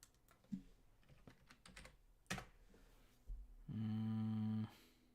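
Scattered keystrokes on a computer keyboard while a search term is typed into a Bible lookup, followed near the end by a loud, sustained buzzing tone.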